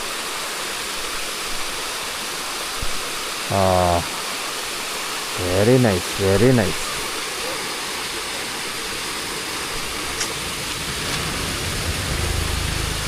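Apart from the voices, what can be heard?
roadside waterfall rushing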